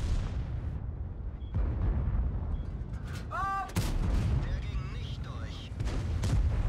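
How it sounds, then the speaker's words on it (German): Artillery shell striking a tank in the World of Tanks video game, heavy rumbling impacts and booms, with a sharp crash just before the four-second mark, under ongoing battle noise and talking. "Ich wurde gerade von der Arti getroffen."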